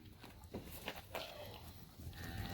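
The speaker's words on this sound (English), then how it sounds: "Here come the cows." A herd of cows comes in on a farm during the summer harvest, heard as faint shuffling hooves and low livestock movement at a distance under a steady outdoor background.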